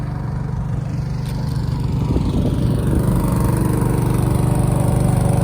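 A small 6.5 hp outboard boat motor runs steadily and close by, a constant mid-pitched drone with no pauses. No voices are heard.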